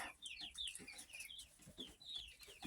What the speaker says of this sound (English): my Rhode Island Red flock, my permanent flock